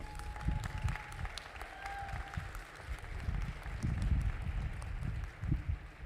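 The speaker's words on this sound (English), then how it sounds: "Yes, you can applaud for that." An audience at the New Mexico Tech afternoon commencement ceremony applauds the graduates, a moderate, continuous patter of many hands that swells and ebbs slightly over several seconds.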